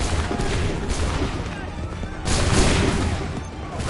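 Musket volley fire in Assassin's Creed 3, dense crackling bursts of gunfire in two main waves over continuous battle noise.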